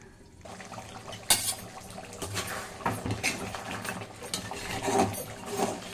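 Crab masala gravy simmers in a covered pot after a little water is added, giving steady bubbling and a scatter of soft clicks and lid taps at moderate volume, with no voices.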